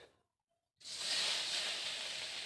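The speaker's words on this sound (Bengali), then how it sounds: "চুনো মাছটাকে না ভাজলে এত রেসিপি করা যাবে না। দিয়ে দেবো চুনো মাছ," Small chuno fish drop into hot oil in a pan and start a sudden loud, steady sizzle after a brief quiet moment. The hiss stays close and continuous until the end.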